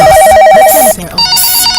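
Loud electronic phone ring in a radio advert, a warbling trill that cuts off and then sounds again at a higher pitch, close and clean.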